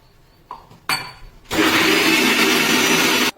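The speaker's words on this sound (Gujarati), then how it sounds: "પાણી નાખી અને મિક્સરમાં ઘૂમી દઈશું." An electric mixer grinder blends beetroot pieces, green garlic and water. A few clicks and clunks come first, then the motor roars loud and steady for almost two seconds before cutting off abruptly.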